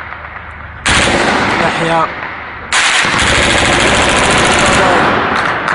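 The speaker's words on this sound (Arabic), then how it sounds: "قصف عشوائي المنازل" Heavy gunfire and shelling strike homes in the Baba Amr district of Homs during an attack involving tanks; loud bursts of automatic fire and blasts run almost continuously, broken by a short lull, with shouting voices mixed in.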